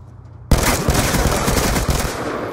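Sustained automatic gunfire from Call of Duty Black Ops 2 erupts loudly after a brief quiet lead-in, a dense rattling burst of rapid shots continuing without pause.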